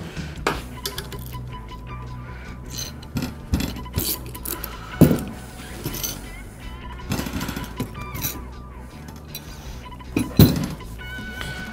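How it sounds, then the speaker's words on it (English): Train horn drivers are unbolted from a metal bracket on a Ram 2500 Cummins diesel, giving scattered metallic clinks, ratcheting and wrench clicks with short bursts of tool noise, close by and uneven in rhythm. "now we're gonna go ahead and unbolt the drivers from this bracket"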